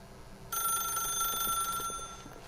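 A telephone rings in the video game The Stanley Parable, a bright electronic bell trill that starts abruptly and rings continuously for about two seconds, moderately loud and alone.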